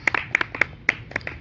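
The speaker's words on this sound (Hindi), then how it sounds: "तालियों के साथ" A few people clap to welcome a guest at a Punjabi community national executive meeting in Chittorgarh, giving short, loose, uneven claps close by over a quiet room hum.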